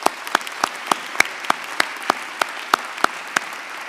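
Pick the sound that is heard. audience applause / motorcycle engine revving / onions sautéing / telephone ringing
audience applause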